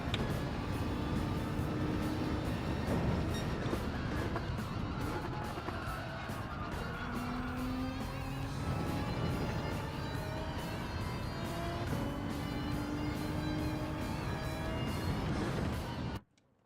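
Nissan GT-R engine in Gran Turismo 7, a loud continuous roar with rising and falling gear-change tones held steady throughout, cutting off abruptly at the end.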